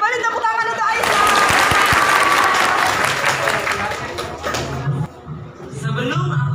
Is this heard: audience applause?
yes